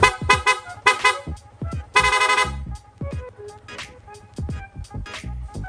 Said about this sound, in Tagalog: Pag nag-loud horn tayo, automatic po yan, katulad po ng passing